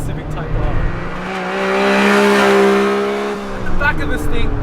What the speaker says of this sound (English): Back of this thing, you've got an aftermarket catback exhaust, and it absolutely sounds glorious when you're on song